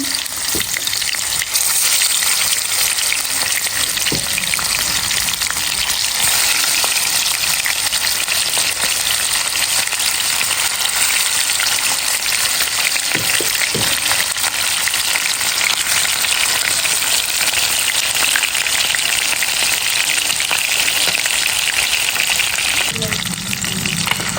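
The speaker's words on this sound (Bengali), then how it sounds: "আর এখন মাছগুলো ভাজবো, দিয়ে দিলাম।" Fish sizzle and crackle steadily in hot oil, a loud, continuous frying hiss that fills the whole stretch with a few faint knocks and utensil sounds scattered through it.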